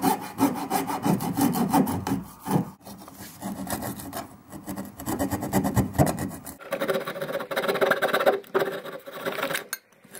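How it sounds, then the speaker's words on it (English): A coping saw cuts a slot in a wooden bodysurfing handplane, steady rhythmic rasping strokes close up, pausing briefly partway through before resuming with a brighter scrape. "Now, even after you go through the coping saw,"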